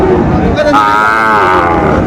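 A Sahiwal bull calf on a Bogura farm gives one loud, close, drawn-out moo, with the animals and the farm setting audible around it.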